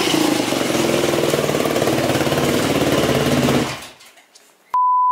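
A 2008 Yamaha YZ250F dirt bike engine runs with a close, steady buzzing drone, then cuts off. A short electronic beep follows.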